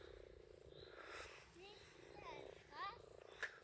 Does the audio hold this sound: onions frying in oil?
no